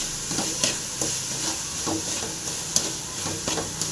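Carrot halwa being stirred in ghee in a pan, with a steady frying sizzle and hiss under soft, rhythmic scraping strokes repeating roughly every half second, close up and fairly quiet.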